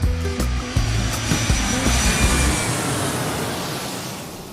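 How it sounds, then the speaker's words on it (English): An airplane taking off, a steady broad engine roar with low droning tones that stays loud and even before easing slightly toward the end, with no voices. "part one of Branko's round trip story gets ready for takeoff"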